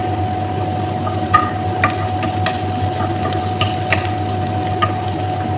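Steady oil sizzle from ingredients browning in a pan for ginisang cabbage, a continuous close frying hiss with a low hum beneath and occasional light clicks of stirring.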